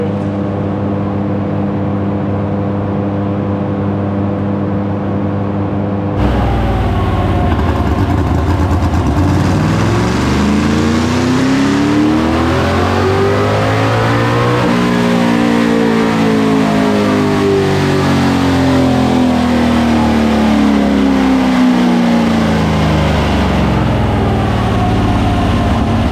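A car engine on a dyno at a dyno day, revving hard and loud for a sustained run, its pitch sweeping up then down after a quieter idling stretch, with no talk over it.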